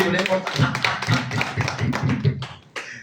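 Audience clapping at a Telugu spiritual discourse in Srisailam, a dense run of hand claps lasting a few seconds, fairly close, with voices talking over it before it tapers off.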